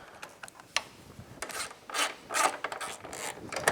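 A 5 mm Allen key working a bolt on the center display of a Honda VTX 1800 motorcycle fuel tank: soft intermittent metallic scraping and rubbing clicks, close and quiet, with a few louder rasps near the end.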